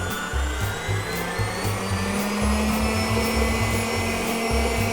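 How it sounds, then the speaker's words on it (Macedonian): An electric mixer whips half a litre of sweet cream in a bowl for a chocolate New Year cake, running with a steady, loud motor whine and a rhythmic low churning that wobbles as the beaters move, with no talk. "Ја матам павлака да добијам крем."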